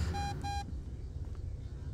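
Electronic beeping from the horror video game The Beast Inside: two steady, bright tones in quick succession within the first half-second, then low background rumble and ambience with no further beeps.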